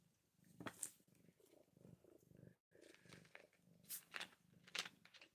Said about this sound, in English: I think I'm going to have to put this cat out.